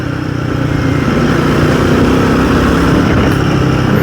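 Royal Enfield Guerrilla 450 motorcycle riding along, its engine a steady close drone with continuous road and wind noise and no talk.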